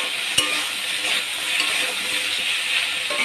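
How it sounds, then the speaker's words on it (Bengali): Vegetables sizzle and hiss in a hot pan as turmeric, chili and salt are added and stirred in, a steady close frying sound with a single sharp clink from the spatula early on. "সবজিটা ভাজা হয়ে গেছে। এবার হলুদ দিয়ে দিলাম, একটু লঙ্কা, এই যে নুন দিয়ে"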